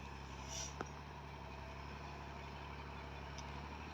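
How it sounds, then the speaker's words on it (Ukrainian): A tractor ploughing a newly worked plot of former virgin land gives a steady, faint engine drone that hums on without pause, heard from some distance with no talk. "Зараз ближче підійде трактор."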